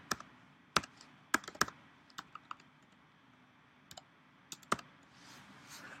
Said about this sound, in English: So this time I'm going to type in home page.